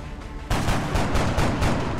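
Gunfire in the video game XCOM Enemy Within, a sudden loud burst of rapid automatic shots with a rough, pulsing rhythm after a quieter lead-in.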